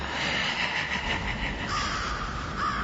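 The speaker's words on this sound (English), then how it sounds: "my crows and I will find you" A Spirit Halloween animatronic crow prop caws continuously, harsh electronic cawing at steady loudness throughout, with no speech.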